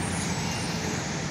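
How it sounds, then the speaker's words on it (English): A Freightliner M2 truck passes at night, a steady, broad roadway rumble with diesel drone holding at constant loudness throughout, no voices present. "Is that a Freightliner? Yeah, it is. It's a Freightliner M2, I think."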